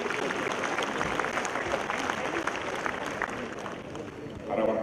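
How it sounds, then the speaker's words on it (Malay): Audience applause at a party general assembly in a large hall, a dense steady wash of clapping through the clip with a burst of voice near the end. "kita beri tepukan yang berhadir di luar dewan sana sekarang"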